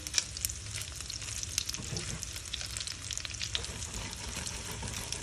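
Ground beef meatballs frying in a pan in their own rendered fat, a close continuous crackling sizzle with scattered sharper pops and spits, no voices.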